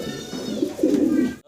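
Pigeons at a seller's loft, including Sirazi and Lahori breeding pairs, give low, throaty cooing that rolls on continuously and close by for a moment.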